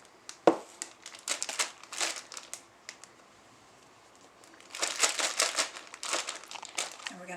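A plastic piping bag crinkles in short bursts while being filled with frosting for cupcakes, close and quiet, with a sharp tap near the start and a pause before a second burst of rustling.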